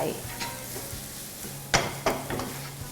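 A spatula stirs instant noodle seasoning powder and seasoning sauce into canned fish frying in a pan. A steady soft sizzle runs throughout, with two sharp scraping strokes close together near the end.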